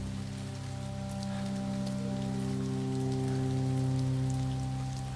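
Steady rain falls across open ground, a continuous soft wash of drops with a low droning hum beneath, even and unbroken throughout with no voices.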